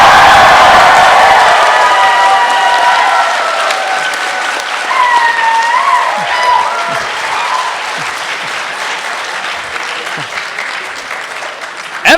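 A large convention crowd applauds at a FanimeCon fan panel, a dense, steady wash of clapping with scattered whoops that starts loud and eases slightly before rising again near the end.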